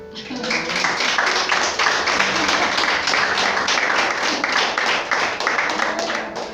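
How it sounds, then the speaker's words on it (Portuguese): Church congregation applauding together during a sermon, dense steady clapping that fills the room at a constant level, with a voice faintly audible beneath it. "eu quero pedir para você aplaudir agora"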